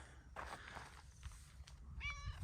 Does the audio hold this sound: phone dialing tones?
no